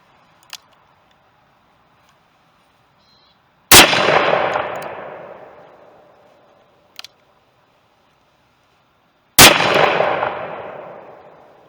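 Two loud, close revolver shots from a .454 Casull, fired one-handed at pumpkins outdoors, come several seconds apart. Each sharp blast is followed by a long rolling echo that fades out, with faint clicks from handling the gun in between.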